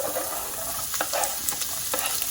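Chopped onions fry in sunflower oil with black mustard seeds, making a short, steady sizzle broken by a few light stirring scrapes, with no talking.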